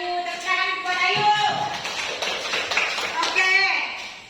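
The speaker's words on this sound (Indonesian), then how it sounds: "Tepuk tangan buat Ayu." A classroom of students clapping for a classmate, a scattered round of hand claps lasting a few seconds with a teacher's voice and ringing tones over it.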